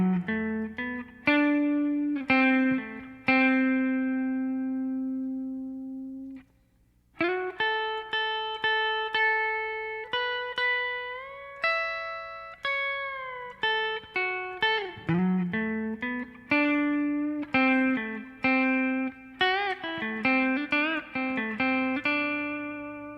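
Electric guitar with distortion playing a solo, a close, clear run of picked notes and bends with a pause near the start, then busy phrases to the end, no talk.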